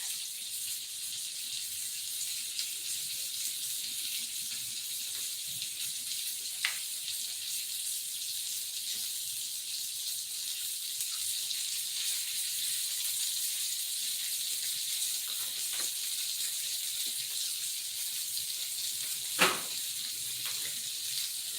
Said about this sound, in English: I am going to toast my bun a bit.